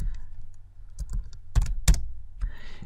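A computer keyboard is typed on in a few sparse, separate clicks with one or two sharper strikes, close and alone in a quiet room.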